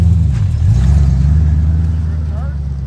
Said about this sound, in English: So try and drift a circle